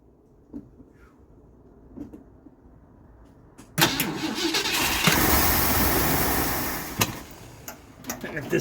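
A Mercury engine, being revived, cranks and catches after a few seconds of quiet clicks, then roars loud and close with a steady rough running note that continues to the end.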